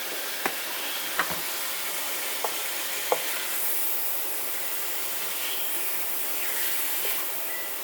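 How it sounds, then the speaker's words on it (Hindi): Steady sizzling hiss of chicken frying in a pan with garlic-ginger paste, with a few soft clinks of a utensil stirring near the start. "चिकन देखिए हमारा फ्राई हो रहा है।"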